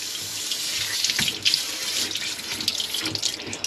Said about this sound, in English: It's really wonderful to have hot water at your disposal for washing your horse.